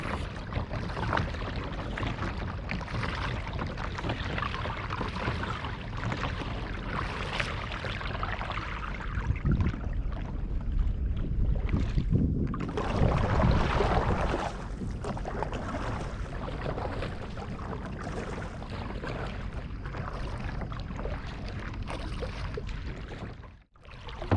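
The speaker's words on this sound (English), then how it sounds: "This is how I usually paddle when I go fishing." Paddling a Point 65 North three-piece modular kayak on open water while fishing, with steady splashing and water noise mixed with wind buffeting the microphone, continuous and fairly loud throughout, no talking.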